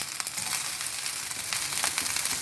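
Egg fried rice sizzles steadily in a hot pan, a dense continuous frying crackle with small pops throughout, close and fairly loud with no talk.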